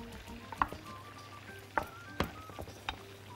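A spoon stirs diced peppers, salt, black pepper and spices with vinegar in a pan beside eggplant, producing a few sharp scraping clinks over a soft, faint sizzle.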